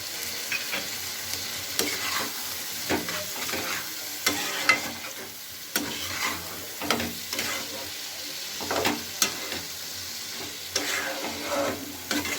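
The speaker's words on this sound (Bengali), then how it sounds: "এটা খুব ভালো করে কষিয়ে নিচ্ছি কিছুক্ষণ ধরে।" Potatoes and peas sauté with ground spices in a pan, with a soft sizzle under repeated scraping and stirring strokes of a spatula at an irregular rhythm, close by.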